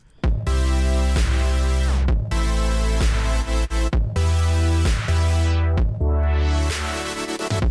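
Electronic dance music loop with punchy kick drums, deep bass and tight, compact synth chords, playing loud and steady with rhythmic pumping and brief drops between bars.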